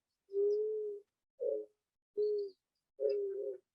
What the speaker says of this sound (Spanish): Esta es la tórtola.